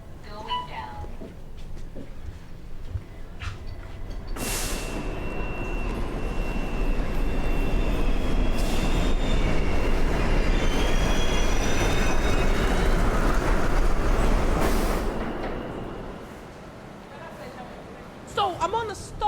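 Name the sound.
train riding on rails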